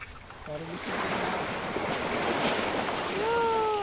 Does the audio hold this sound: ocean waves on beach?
yes